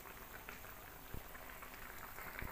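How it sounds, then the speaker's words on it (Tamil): Brinjal gravy for a thick kathirikai thokku bubbles quietly in a pot, a soft continuous simmer with scattered small pops and blips, faint and close, with no voices. "குழம்பு கொதிச்சுட்டு நல்லா கொஞ்சம் நல்லா டைட்டாக வரும்"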